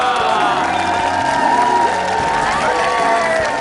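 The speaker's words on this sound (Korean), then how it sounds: "큰 박수로 하시기 바랍니다" A studio audience at a Korean TV variety talk show cheers and whoops over applause, a loud, continuous crowd roar that holds steady throughout.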